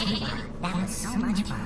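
Sheep bleating in the Worms WMD video game, a few wavering cries in succession with other game sounds and a voice layered over them.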